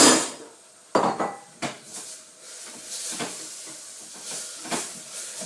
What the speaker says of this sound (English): you can probably see the apples sizzling away there.